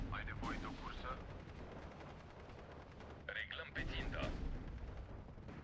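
Mortar defensive fire in a World War II strategy game battle between Romania and Hungary, with a few sharp impacts and booms over rumbling background noise and a voice talking over it.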